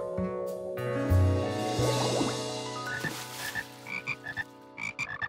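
Frogs croaking close by, deep drawn-out croaks giving way to a series of short, bubbly calls.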